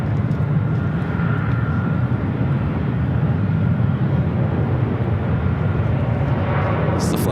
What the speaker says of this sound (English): This is the flight coming in from Kahului. It's a 767-300ER.